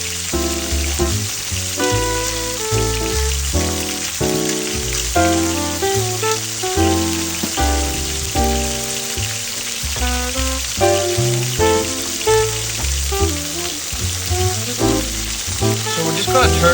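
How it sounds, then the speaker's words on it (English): Beef sears in a very hot pan, giving a steady, hissing sizzle close by. Loud background music with a steady beat plays over it the whole time. "So we're going to sear this on one side, leave it for about 45 seconds, get a real hot pan."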